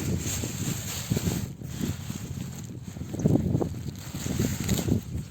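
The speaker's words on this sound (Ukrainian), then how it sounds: "ще вітер зірвався" Wind buffets the microphone in uneven gusts, a low rumbling rush that rises and falls, with no voices.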